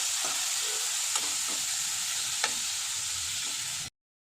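Chopped tomato with green chilli frying in a pan, giving a steady, close sizzling hiss with a few soft stirring taps before the sound cuts off abruptly near the end.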